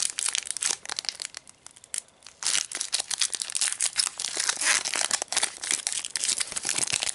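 Loud, continuous crinkling and tearing of foil as a Pokémon Sun and Moon booster pack is opened up close, dense crackles with a brief quieter pause early on and no talking.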